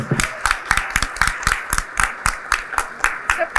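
Audience clapping at a medical association's annual gala dinner, a loud, fairly regular rhythmic beat of clustered handclaps repeating about twice a second, like a group clapping in time, with faint crowd noise beneath.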